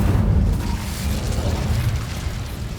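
The Incendio fire spell in the Hogwarts Legacy video game going off as a loud, low, rumbling burst with a muffled booming roar that slowly fades.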